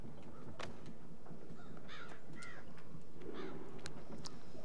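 Several crow caws from the video game Child of Light, harsh repeated calls spaced across a few seconds over a steady ambient game background, with no talk.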